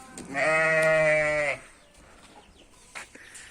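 A single sheep gives one loud, drawn-out bleat of about a second during milking in a village farmyard, followed by quiet background with a couple of faint knocks.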